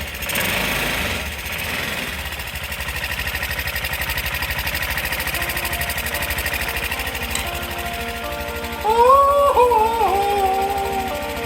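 A Honda CH80 scooter engine fitted with a new aftermarket carburetor runs at a steady idle, its even mechanical drone continuing throughout, until a shrill tone suddenly rises over it near the end.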